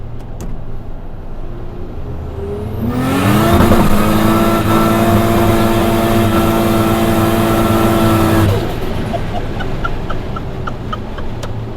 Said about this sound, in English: Would this do like the craziest burnout?